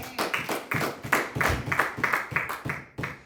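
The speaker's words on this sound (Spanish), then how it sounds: "Denle un aplauso a Cristo." Congregation clapping in unison during a church sermon, a steady run of loud, sharp claps in a quick rhythm, close and continuous for a few seconds with no talking over it.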